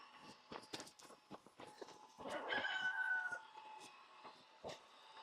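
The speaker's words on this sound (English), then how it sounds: "Let's close it before this chicken gets out." A chicken near a gate being installed with a dual automatic opener clucks and squawks faintly in brief bursts, with scattered footsteps and light knocks around it.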